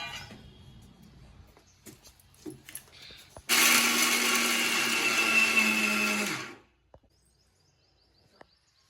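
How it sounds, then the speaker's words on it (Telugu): After some light clatter, a kitchen mixer grinder whirs loudly through bonda batter for about three seconds, then cuts off abruptly into near silence. "ఒకసారి గ్రైండ్ చేసుకుందాం"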